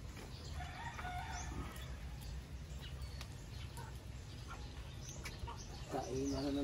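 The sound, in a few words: chickens clucking and rooster crowing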